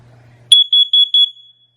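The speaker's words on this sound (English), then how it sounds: "So to test, you click on this little symbol." First Alert 10-year carbon monoxide alarm with temperature display sounding its test: a loud, close, high-pitched electronic beep pattern of four quick pulses, then silence.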